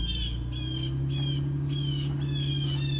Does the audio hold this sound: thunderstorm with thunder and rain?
no